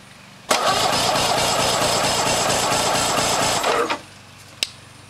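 A 2005 Mercury 200 XL carbureted saltwater outboard engine cranks over during a compression test on the left bank's top cylinder, a loud, fast rhythmic churning for about three and a half seconds that stops abruptly, followed by one sharp click.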